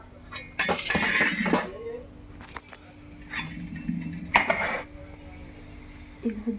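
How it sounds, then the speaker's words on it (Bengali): Dishes and bowls clatter and clink in a couple of loud bursts, close by, with quieter knocks in between, as crockery is gathered up for washing. "এরকম কিছু বাসন বাটি আছে,"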